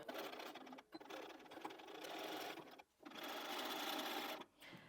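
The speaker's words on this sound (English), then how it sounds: "we're just going to start to sew." A sewing machine runs steadily, attaching binding to a Christmas tree skirt. Its faint whirring hum carries on with two brief pauses.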